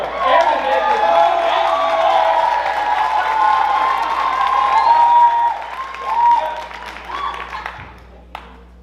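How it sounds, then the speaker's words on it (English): Audience at a Fresno State cultural night show claps and cheers in a loud sustained burst of applause with shouts mixed in, fading out near the end. "please give a round of applause"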